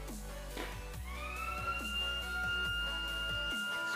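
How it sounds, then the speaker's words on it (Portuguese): A low-level alarm siren on a household water tank overflow system switches on about a second in, rising quickly to a steady, piercing electronic tone over background rumble and a few soft knocks. "Tá, eu vou ligar o alarme agora"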